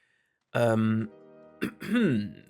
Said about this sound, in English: Why do I have to clear my throat so far?